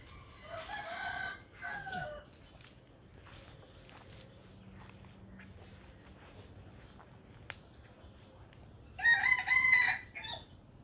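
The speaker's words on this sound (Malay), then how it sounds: "Macam mana ayam aku boleh selip kat sana?" Chickens cluck near a neighbour's house early on, then a rooster crows loudly and close toward the end, with faint footsteps and outdoor ambience in between.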